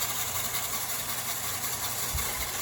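Small engine of a custom LEGO RC vehicle running in gear, a steady low mechanical hum with faint whirring and a brief louder bump near the end, continuous and close.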